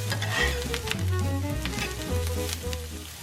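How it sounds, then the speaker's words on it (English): Italian sausage browning in a stovetop skillet, a steady close sizzle and crackle of frying meat with occasional stirring scrapes, no voices. "You're going to brown that up in a skillet on your stove top"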